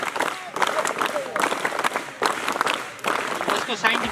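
A crowd claps at a scout graduation ceremony during a children's development camp, with several loud waves of applause separated by brief dips and a voice talking through them.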